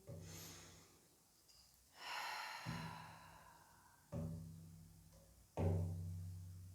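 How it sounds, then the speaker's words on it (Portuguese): Slow, deep breathing sounds during a guided meditation session, soft inhales and sighing exhales repeating every second or so over a low steady hum, fairly quiet and without talk. "Respirando fundo."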